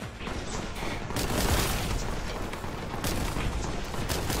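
Cannon fire in a video game, a continuous barrage of overlapping booms and blasts rumbling for several seconds without a pause, loud and dense.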